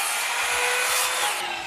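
A power tool saws steadily through wood, a continuous bright buzzing whine with a faint lower rumble, loud and close throughout with no talking.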